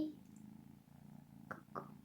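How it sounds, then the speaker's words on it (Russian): A cat purrs softly and steadily at close range, a low continuous rumble with a couple of brief higher squeaks near the end. "Слышите, как он мурлычет?"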